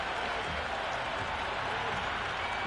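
Crowd noise in an IPL cricket video game, a dense, steady roar of cheering and applause from a stadium crowd filling the background evenly throughout.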